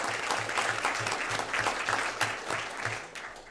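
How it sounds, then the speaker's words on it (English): An audience at a school board of education meeting gives a student athlete a round of applause. Steady, moderately loud clapping runs throughout and tapers slightly at the end. "let's give Michael a round of applause as well"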